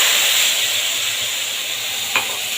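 Spice paste sizzles in hot oil tempered with black cumin. A steady, bright hiss of frying runs throughout, with one brief knock near the end.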